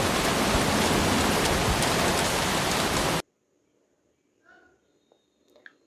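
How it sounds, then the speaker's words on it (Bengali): Steady, loud hiss of rain falling for about three seconds, then it cuts off abruptly into near silence with a few faint brief sounds. "আষাঢ় মাসে বৃষ্টি পড়ে"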